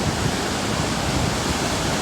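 Thundering waterfall where a dam spillway pours off in the Hudson Valley, a dense, steady roar of falling water that fills the whole clip at close range without a break.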